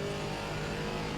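Engine of a Mercedes GTS race car in a racing video game, a steady, full drone of a hard-running engine that stays level without breaks for the short stretch.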